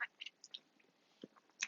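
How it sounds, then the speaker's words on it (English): Soft, close chewing of food, a string of small wet crunches and bites at irregular intervals over a quiet background. "I'm chewing."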